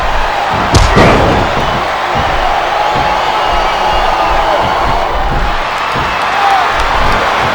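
A wrestling arena crowd in the WWE Smackdown vs Raw video game roars and chants steadily throughout, with a loud slam near the start and a dense, continuous wash of crowd noise.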